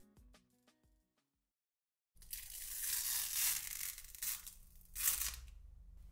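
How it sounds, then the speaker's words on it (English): Plastic protective film being peeled off the glass of a restored Redmagic 6 gaming phone: a sustained tearing, crackling rip lasting about four seconds, close and fairly loud, following a brief silence. "Once the plastic protective film is removed"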